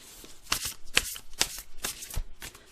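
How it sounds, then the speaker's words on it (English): Affirmators love and relationship tarot-style cards being shuffled by hand, several quick riffling bursts in an uneven rhythm, close and crisp, with no talk over them. "Just going to shuffle a little bit and do the split."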